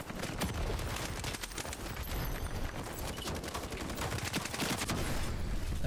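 Ironsight shooter gunfire: a dense, continuous stream of rapid automatic shots, loud and close, rattling steadily without a break for the whole stretch.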